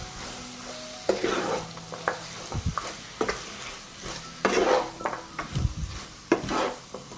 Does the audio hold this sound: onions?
yes